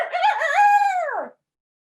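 A rooster crows once, a single loud, close, rising-then-falling call lasting just over a second before cutting to silence.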